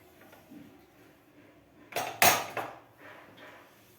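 A pressure cooker lid being removed after cooking dal with fenugreek greens, a quiet room broken by a quick cluster of sharp metallic clanks and pot clatter near the middle, then fading handling noise.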